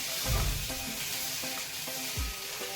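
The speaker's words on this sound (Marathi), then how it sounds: "त्याच्या या बटाट्याला छान इथे घेऊन करून घेऊया छान असं जिरे आणि मिरचीमध्ये परतून घेऊया गॅस मी मिडियम ठेवला आहे" Potato pieces sauté with cumin and green chillies over medium heat, a steady close sizzle with a couple of low thumps and scraping stirs, no speech.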